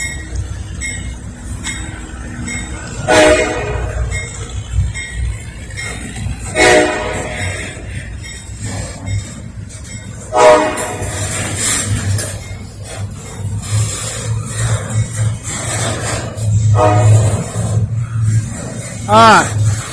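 A Norfolk Southern train led by two locomotives passes a road crossing at Carroll Avenue in Lynchburg, Virginia, with a steady low rumble of rolling cars, several loud horn blasts and a voice talking over it.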